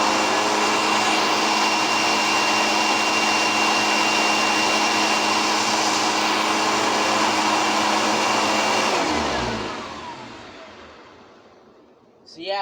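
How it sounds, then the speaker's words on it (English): A bagged or bagless household vacuum cleaner runs loudly with a steady high whine, then powers down, its pitch falling as the motor winds to a stop. "I'm just going to give you a demonstration of what these vacuums sound like"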